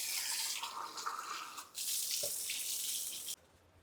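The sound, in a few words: fish being washed under a running sink tap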